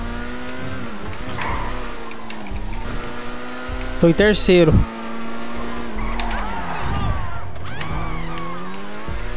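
A race car engine drones and shifts pitch in a GTA racing game, with a sharp burst of tire squeal midway; someone speaks briefly over the steady game sound.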